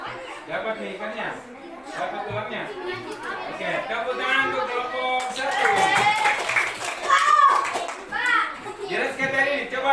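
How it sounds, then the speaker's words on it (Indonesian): A group of elementary schoolchildren claps in a classroom, a burst of applause rising midway amid lively chatter and children's voices talking over it. "Oke, tepuk tangan untuk kelompok satu"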